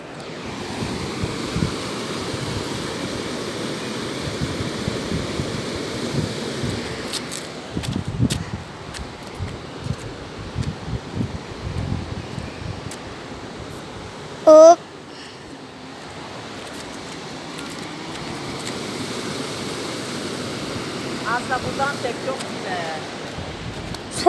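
A waterfall near a large stone bridge fills the air with a continuous, even roar of rushing water, with occasional voices and wind bumps on the microphone.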